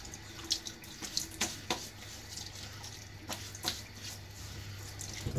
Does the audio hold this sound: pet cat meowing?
no